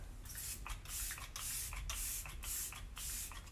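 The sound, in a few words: Arbonne Let It Set refreshing makeup spray being sprayed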